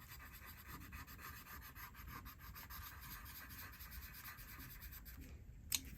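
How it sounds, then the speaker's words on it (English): Colored pencil rubbing steadily across a page while filling in a coloring book, a continuous soft scratchy shading sound with close, even strokes and a brief sharper tap near the end. "And we will color in those two."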